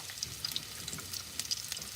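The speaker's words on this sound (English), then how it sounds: "You hear the sizzle?" Carrots sizzle in hot oil in a pan for a Filipino chicken caldereta, with a steady crackling fry and scattered sharp pops throughout. No one speaks.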